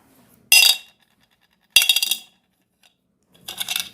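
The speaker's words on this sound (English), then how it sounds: "let me drop these coins here." Three separate bright metallic clinks of coins landing on a hard plate, each with a short ringing decay, spaced apart by moments of quiet.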